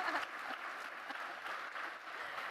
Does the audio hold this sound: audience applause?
yes